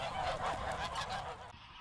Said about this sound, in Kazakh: Виктор Приптің фермасындағы қаздың саны қазір 4000-ға жеткен.